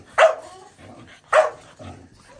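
Two sharp yelping barks from a male puppy, close and fairly loud, about a second apart, each followed by softer snuffling and low whimpery noises.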